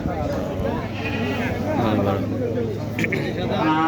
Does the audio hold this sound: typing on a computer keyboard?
no